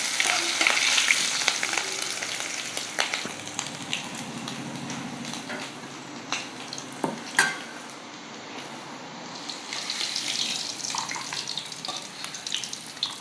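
Prawns fry in a pan with a steady close sizzle, while a utensil stirs and scrapes them in a few brief knocks and clatters over the crackling.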